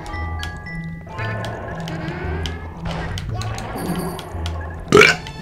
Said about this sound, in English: I just burped out!